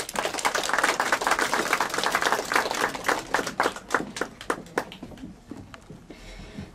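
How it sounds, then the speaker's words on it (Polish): Audience clapping at a folk singers' and storytellers' gathering for a folk ensemble's 40th anniversary, a brisk burst of many hands that thins out into scattered individual claps toward the end. "Duże, duże brawa na to 40-lecie działalności zespołu i pani Anny w zespole."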